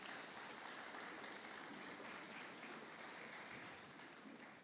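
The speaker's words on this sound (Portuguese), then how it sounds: "Aplaudam o Senhor pela vida desses 2 voluntários." A congregation applauds two volunteers at a church service, a faint, dense, steady wash of clapping that holds throughout and tapers slightly at the end.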